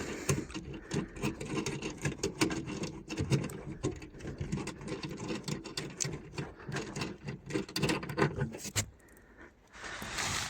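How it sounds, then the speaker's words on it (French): Nuts come off by hand from the bumper of a Citroën C3, heard up close as a quiet, busy run of metallic rattling, scraping and jangling that drops away briefly near the end. "On enlève les écrous à la main."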